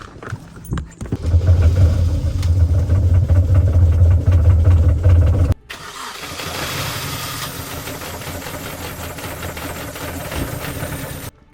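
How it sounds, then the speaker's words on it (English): A Mini Cooper engine runs loudly and roughly with a rumbling, uneven idle, then cuts out briefly and keeps running at a lower, steadier level. "that engine sounds absolutely atrocious. Literally, it just jutted the whole time"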